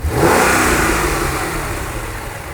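A Mercedes AMG car engine, suspected of a bad clutch, fires up and revs hard, loud and close, then settles into a steady, slowly fading roar.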